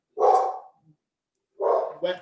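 A dog barks during an online environmental meeting: two or three short, loud, close barks separated by a pause, with no other sound between them.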